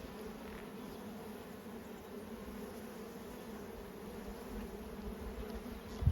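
Honey bees drone steadily around an opened backyard hive after a partial swarm, a soft, even buzzing hum filling the whole stretch without pause or voices.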